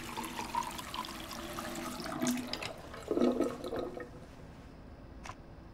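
Water runs steadily from a tap in the Life is Strange 2 video game, a continuous splashing wash with a few louder gushes midway and a brief clink near the end.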